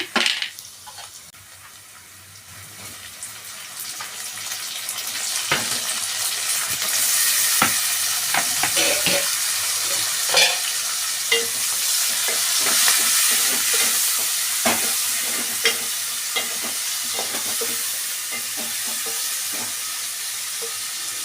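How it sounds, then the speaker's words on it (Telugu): Tomatoes hit a hot pan and fry with a loud, continuous crackling sizzle, close up, with scattered clicks and stirring scrapes running through it, no voices. "ఇప్పుడు మనం టమాటాలు వేసుకుందాము"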